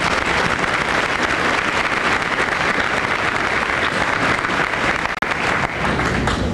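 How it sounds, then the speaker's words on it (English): An audience at a high school honor awards assembly gives a round of applause, a continuous, loud, even roar of many hands clapping that holds steady throughout, with only a brief dip near the end. "Let's give Andy a nice round of applause."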